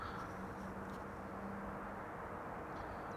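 A Boeing 747 arriving at Amsterdam Schiphol on a sunny day, heard as a steady, distant broadband engine roar with a faint low hum, continuous and even throughout with no talk.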